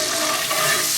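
A spoon stirs a warm steak au poivre brandy sauce in a pan, making a dense, even bubbling sizzle with soft scraping, close and continuous for a brief moment.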